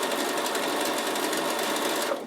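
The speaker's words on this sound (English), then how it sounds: "I just simply use what I have, which in this case is my sewing machine and my double overlock stitch." A Bernina sewing machine running a double overlock stitch on a half moon bag, a fast steady whirring buzz close up that cuts off abruptly at the end, with no talk.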